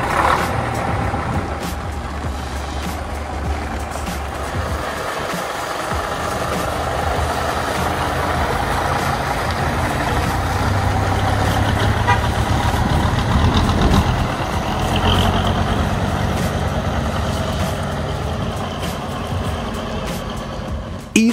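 Diesel engine of the ex-Paul McCartney Wings Over Europe tour bus rumbling steadily nearby, a loud continuous drone with slight swells and some road or traffic noise, no talk.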